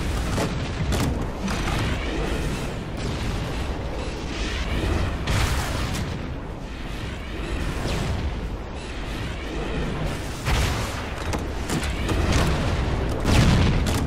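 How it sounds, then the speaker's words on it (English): Rocket launcher blasts against a Covenant tank on Halo's Two Betrayals mission, a dense run of loud booming explosions and bursts one after another, continuous battle noise with no talk. "It's so much quicker if you just use the rocket launcher."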